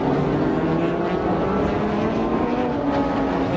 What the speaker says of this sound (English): Normally aspirated V12 engine pulling that white and green car